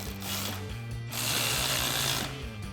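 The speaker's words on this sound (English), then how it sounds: "we'll tighten that down with that same 11mm socket" Ratchet with an 11mm socket tightening a nut on a 2016-2023 Camaro cat-back exhaust, a close, continuous run of fast clicking with a mechanical whir, heard alone with no talk.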